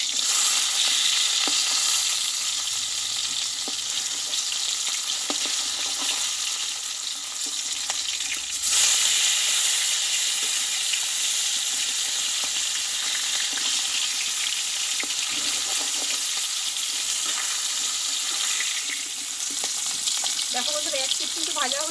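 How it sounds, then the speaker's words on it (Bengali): Constant dense hiss and crackle of fish frying in oil after being flipped, loud and unbroken, with faint occasional scraping sounds underneath. "আমি আর একটু ভালো করে ভেজে নেব"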